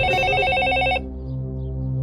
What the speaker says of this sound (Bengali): যদুদা, দেখো তো কার ফোন